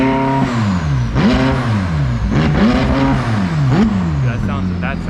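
A McLaren 600LT's engine revs hard several times in a row, loud and close, each blip rising and falling in pitch, with voices heard over it.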